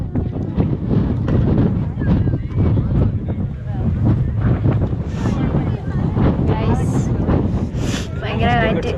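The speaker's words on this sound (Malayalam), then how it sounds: "ഇവിടെ ഭയങ്കര കാറ്റ്" Strong wind sweeps across a hilltop at Ponmudi, roaring and buffeting the microphone loudly the whole time, with people talking beneath the gusts.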